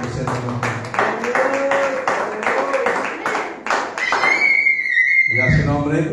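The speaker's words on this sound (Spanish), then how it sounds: "Tienen fuertes palmas, Cristo." A church congregation at a Spanish-language worship service claps in a steady rhythm, the sharp hits running close and loud beneath voices that talk and sing throughout.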